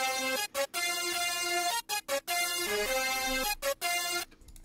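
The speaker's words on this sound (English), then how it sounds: "Third sound is a brass from the Trap Medic kit," A Trap Medic kit brass sound plays a melodic pattern in a trap beat, with bright sustained notes broken by short stabs and gaps, loud and without any voices.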